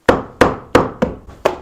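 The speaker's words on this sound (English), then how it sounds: "my hammer," A hammer hits wood five times at an even pace while beehive supers for medium honey frames are built. The blows are sharp and close, with nothing else heard.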